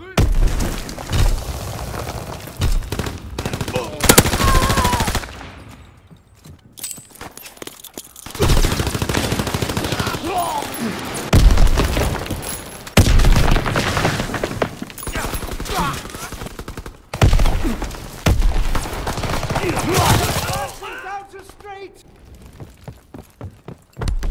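Bursts of automatic gunfire and shots ring out in the Call of Duty WWII video game, loud and close, separated by short lulls, with booms and battle noise around them.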